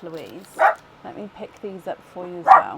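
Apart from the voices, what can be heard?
dogs barking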